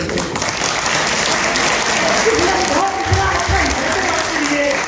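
Audience clapping fills a college fresher party hall at the JCD Institute of Business Management. The applause is dense and steady for the whole stretch, with crowd voices mixed in underneath.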